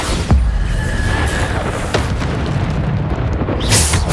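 Bombarda spell explosions in the video game Hogwarts Legacy, loud booming blasts amid continuous battle noise, with a sharp burst early and more impacts throughout.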